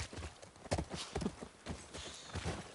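Horse hooves clip-clop in a video game, a quick steady rhythm of close, clear hoofbeats on a hard surface, alone without talk.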